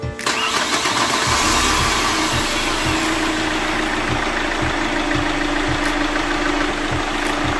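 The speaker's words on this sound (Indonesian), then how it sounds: "kita biarkan dulu mesinnya nyala 10-15 menit" Chevrolet Captiva diesel engine just after starting, a loud close steady idle with a regular low knocking pulse and a continuous mechanical rattle throughout.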